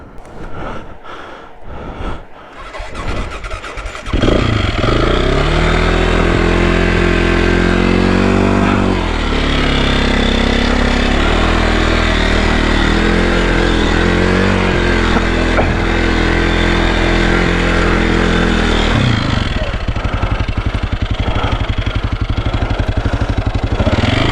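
A 2001 KTM 400 dirt bike engine on a woods trail runs loud and close, a steady throaty drone that holds for most of the stretch with small shifts in pitch and then eases off near the end.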